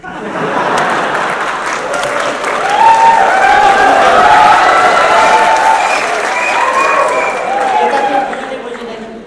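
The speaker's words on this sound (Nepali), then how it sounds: "त्यस कारण त्यताकोले ताली पड्काउनुहुन्छ, यताकोले एकछिनपछि ताली पड्काउनु" Sustained audience applause from a crowd at a political rally in Nepal, dense and steady for the whole stretch and swelling slightly in the middle, with a voice speaking over the clapping.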